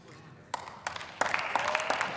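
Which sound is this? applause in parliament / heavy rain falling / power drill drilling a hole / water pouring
applause in parliament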